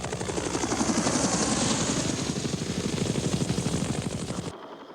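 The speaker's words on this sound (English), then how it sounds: "the basic infantry transport helicopter was the UH-1 Huey" A UH-1 Huey infantry transport helicopter of the Vietnam War flies close and loud, its rotor beating in a fast, steady chop that cuts off abruptly near the end.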